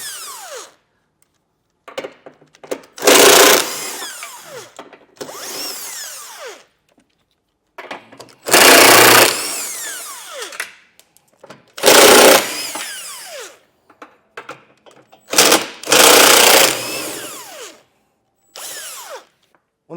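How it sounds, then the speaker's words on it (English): Power impact tool spinning off flange nuts with a 15 mm socket while a trailer hitch is fitted to a 2023 Tesla Model Y: five loud, close whirring bursts of a few seconds each, separated by quiet pauses. "They're going to require a 15mm socket to get these all taken off. So we'll get these removed on both sides."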